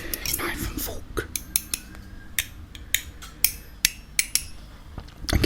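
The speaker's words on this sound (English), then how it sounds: "let's get me knife and fork" Metal knife and fork clink and tap against a plate in a quiet room, a scattered series of sharp, close clicks and scrapes at an uneven pace.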